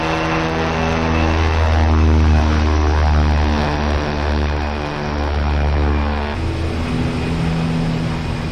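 An OV-10 Bronco twin-propeller aircraft taxis in the DCS World flight simulator, a loud, steady propeller drone with a throbbing engine hum that shifts pitch slightly and settles lower toward the end.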